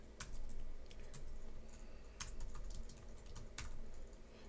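Code being typed on a computer keyboard, a steady run of quick, close key clicks with brief pauses and a few sharper strokes, over a low background hum.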